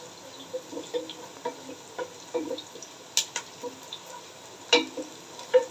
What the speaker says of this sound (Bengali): পেঁয়াজটা ব্রাউন হওয়া অবধি আমি হালকা সটেড হওয়া অবধি আমি ভেজে নেব, ভাজতেছি।